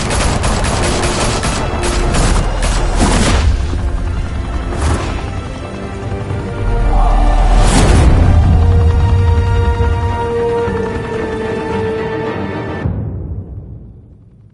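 Gunfire and explosions from a Batman video game, with loud rapid bursts of shots, several heavy booms and a rumbling blast midway before the noise cuts off abruptly.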